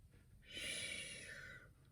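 A person snoring, one long rough snorting breath that rises sharply, holds for about a second and then fades, heard close over a quiet room.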